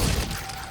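A Glacius freezing spell cast in the Hogwarts Legacy game, a short loud burst of impact and crackle that fades over under a second, with no talk.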